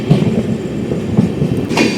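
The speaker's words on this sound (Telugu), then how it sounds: "మన ట్రైన్కి అయితే ఒక ట్రైన్ తోటి క్రాసింగ్ పడింది" Two trains cross near Coimbatore as an Amrit Bharat Express runs past the other. The loud, steady rumble of wheels on rails comes with a few sharp clicks.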